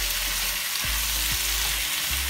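Tofu sizzling in hot oil with sauces for jerk tofu, a steady crackling fry close to the pan, with a few low thumps as it is stirred, and no voices.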